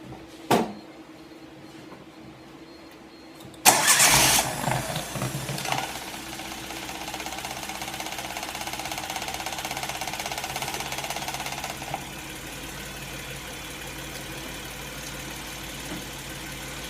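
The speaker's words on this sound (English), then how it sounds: "Okay, we're going to fire it back up." After a quiet stretch and a small click, a Geo Metro engine with a new coil cranks and catches with a loud burst, then settles into a steady idle that continues to the end.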